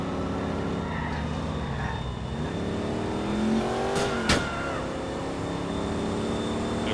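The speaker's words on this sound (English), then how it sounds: "you have to just listen to the engine. Yes, it is actually revving higher." A Virgo car engine in GTA IV drones steadily, its revs rising and falling, with a sharp transient partway through; fairly close and continuous.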